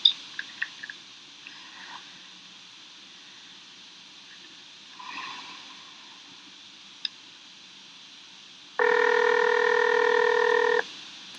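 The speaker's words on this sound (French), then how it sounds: "Oui, j'aimerais passer un appel en France." A telephone dialing an outgoing call to France: a few faint key clicks, a long hushed stretch with a soft murmur midway, then a loud steady two-tone dial tone of about two seconds near the end.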